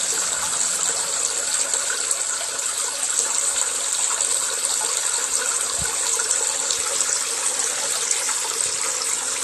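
Running water pours in a steady, bright hiss, like a tap filling a basin, holding constant and fairly close throughout with no break or voice.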